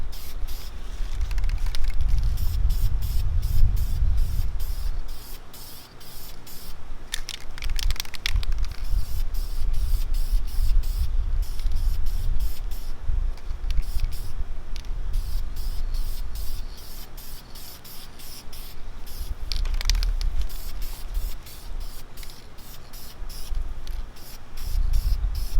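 Aerosol spray paint hissing in bursts over a BMW E46 M3 armrest and center console, a few short sprays separated by pauses, close and moderately loud with low rumbling handling noise.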